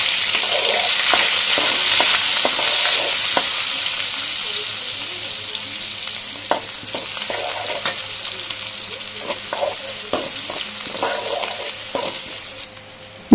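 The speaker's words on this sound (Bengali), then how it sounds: "তো সেই তেলে দিয়ে দিলাম পেঁয়াজ" Onions dropped into hot oil sizzle loudly and steadily, with repeated clinks and scrapes of a spoon stirring the pan, easing slightly toward the end.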